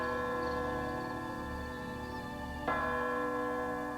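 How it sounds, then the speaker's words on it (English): Church bells toll in stillness at North Elba, New York, their sustained ringing tones layered and resonant, with a fresh strike about two-thirds through renewing the hum. "Church bells tolled in the stillness of North Elba, New York"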